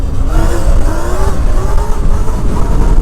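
Surron electric dirt bike fitted with a Torp TM40Pro 50 kW motor pulls hard under acceleration, a loud rising electric whine over heavy wind roar, close and continuous for a few seconds.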